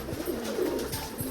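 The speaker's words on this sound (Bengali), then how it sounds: "এটা কিন্তু রাজশাহী পায়রা।" Rajshahi pigeon cooing in a loft, a soft low rolling coo with a few short throaty pulses, close and moderately quiet over a faint background.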